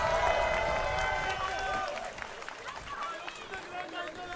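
A boxing arena crowd applauds a fighter, starting with a dense burst of clapping that gradually thins to scattered claps and murmuring, with a commentator's voice over it.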